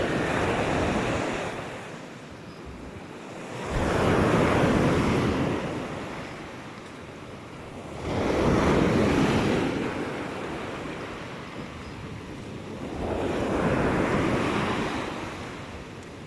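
Waves break on the shore at a seaside spot lined with houses, with three broad surges rolling in and washing back over roughly sixteen seconds beneath a steady wind rumble on the microphone, and no voices.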